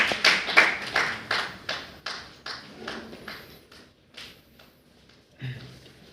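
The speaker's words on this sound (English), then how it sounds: "Please give a round of applause for him." An audience at a college speaking event claps steadily for several seconds, starting loud and gradually thinning and fading before a brief final patter.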